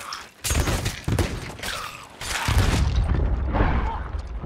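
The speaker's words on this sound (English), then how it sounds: "Dude shot our ship with a cannonball." Cannonballs slam into a ship in Sea of Thieves, loud booming thuds and splintering crashes in quick succession followed by a rumbling wash, with a voice talking over the impacts.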